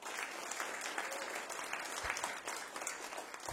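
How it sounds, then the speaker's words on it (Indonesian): A church congregation claps loudly and steadily in a sustained, dense wave of applause that fills the whole stretch without letting up. "Berterima kasihlah kepada Yesus dengan tepuk tangan sekeras-kerasnya."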